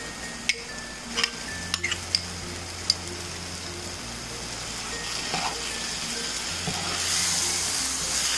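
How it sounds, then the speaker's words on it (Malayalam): Thick mashed yogurt stirred into a bubbling fish biryani masala in a pot, a soft continuous sizzle with a few spoon taps and clinks against the vessel early on, a hum underneath, no talking. "ഇതൊന്ന് ഉടച്ചിട്ട് ഇതിലേക്ക് ഇട്ടിട്ട് ഇളക്കി കൊടുക്കണം"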